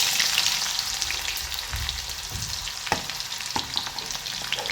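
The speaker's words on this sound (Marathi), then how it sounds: "आता कांदा टाकून घ्यायचा आहे" Chopped onion dropped into hot oil already holding mustard seeds and cumin in a kadhai sizzles loudly and continuously, with a low thump as it lands and a few clinks of stirring.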